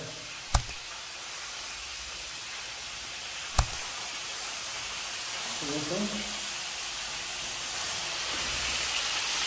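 Food frying lightly in a pan, a steady close sizzling hiss that swells slightly toward the end, broken by two sharp clicks early on, with a brief murmur of voice in the middle.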